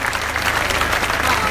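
Dense, steady applause from a crowd at an outdoor political rally for Luigi Di Maio in Piazza Bologni, Palermo, a continuous close wash of clapping with no pauses.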